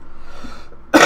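A single short, loud cough bursts out near the microphone at the very end, after a moment of near silence.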